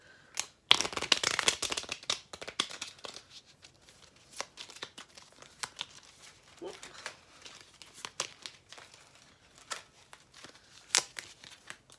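Crisp riffling bursts of cards being shuffled, a dense flurry near the start followed by scattered snaps and taps at close range.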